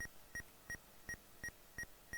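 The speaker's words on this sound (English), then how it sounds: "The beeping is the tracker." The motion tracker in the Alien video game gives a regular series of short, clean electronic beeps, about three per second, evenly spaced and fairly faint against a quiet background.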